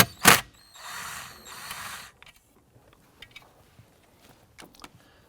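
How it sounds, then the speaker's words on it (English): Ratchet fitted with an 8mm socket backs out glove box backing screws on a 2004-2008 Acura TL: a sharp burst and a stretch of steady ratcheting, then sparse, quiet clicks. "We're going to use 8mm socket. Remove these 2"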